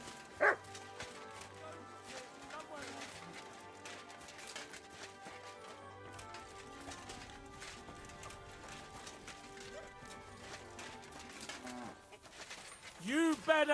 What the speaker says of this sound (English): You better call back that dog!